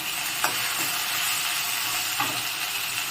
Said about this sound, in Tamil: இப்போ எல்லாத்தையும் போட்டு நல்லா கிளறி விடலாம்.